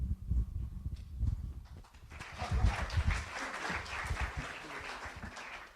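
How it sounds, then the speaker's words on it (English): Applause from an audience at a student orientation, clapping building after a moment of muffled room noise and then continuing steadily at a moderate distance. "Tim always loves applause."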